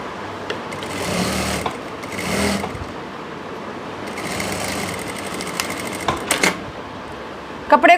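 An electric sewing machine stitching fabric for palazzo pants with a pocket, running in short bursts of rapid mechanical whirring with pauses and a few clicks and knocks as the cloth is handled.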